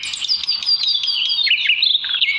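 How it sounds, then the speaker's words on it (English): Small birds chirp and tweet in a continuous bright, busy chorus of rapid high calls, fairly close and loud, with no talking. "the birds could tweet"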